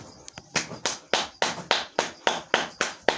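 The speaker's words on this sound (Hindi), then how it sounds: "ताली बजाना एक सुगनीय है" Hands clap in a steady, even rhythm, about ten sharp claps in a row, each one crisp and close with a short decay, during a yoga health practice, with no talking.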